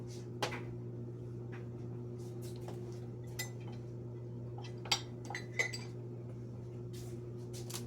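Kitchen containers are cleared from a counter while baking peanut butter cookies, with scattered clinks of glass and utensils and soft knocks heard over a steady mechanical hum.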